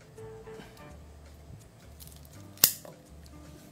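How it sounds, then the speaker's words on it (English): A cigar being cut by hand, heard as a single sharp snip near the middle of an otherwise quiet moment with faint room hum and no talking. "I take the cigar like this,"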